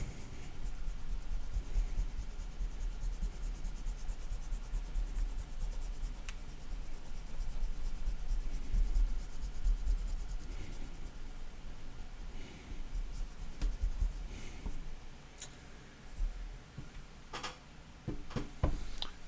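A number 2 pencil works on paper at a live drawing session, giving soft, steady scratching and rubbing strokes that stay faint and continuous, with a few sharper taps near the end.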